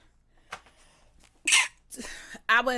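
A sharp, loud sneeze bursts out after a few quiet breaths, followed by another forceful vocal burst.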